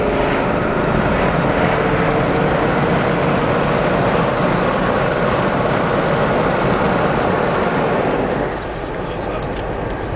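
A 1996 Chevrolet Caprice wagon accelerating on an open road, with a loud, steady roar of engine and road noise that fills the whole stretch and eases slightly near the end.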